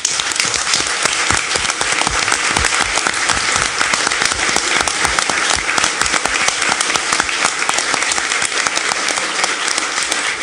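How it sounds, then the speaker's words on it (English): Loud, sustained audience applause for a retiring staff member being given an award at a school board meeting, close and dense clapping that continues for about ten seconds. "I would ask the audience to join me in a round of applause for Idessa"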